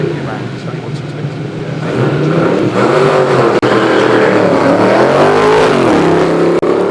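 A Lotus 30 race car with a 4.7 litre Ford V8 accelerates hard up the Shelsley Walsh hillclimb, its engine roaring loud and rising through gear changes while a commentator talks over it.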